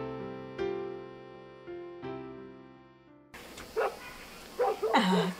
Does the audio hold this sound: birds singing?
no